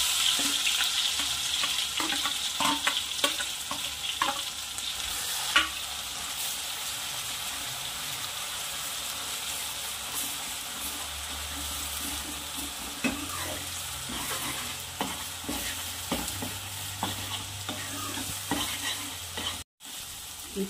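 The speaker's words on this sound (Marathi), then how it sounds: "आता आपण यामध्ये हे वाटण ऍड करू" Ground masala paste frying with golden-brown onions for chole, a continuous close sizzle with frequent spatula scrapes and stirring knocks, and a low hum entering partway through.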